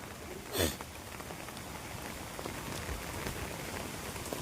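Heavy rain from Cyclone Dana pours steadily onto surfaces, a dense even hiss of drops close by, with one brief sharper knock near the start.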